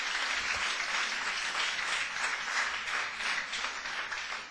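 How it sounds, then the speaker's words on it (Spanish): Church congregation applauding during a Bible teaching on Judges, a sustained, fairly distant wash of many hands clapping, even and unbroken, with no speech over it. "Gloria a Dios por ese aplauso."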